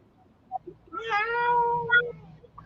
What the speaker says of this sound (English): Well, the cat's saying hi too. You hear?